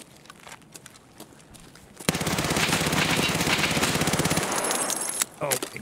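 A PPSh-41 submachine gun fired by the player in Escape From Tarkov: a long, loud, rapid unbroken burst of automatic fire lasting a couple of seconds, preceded by quieter movement and followed by a short clattering tail.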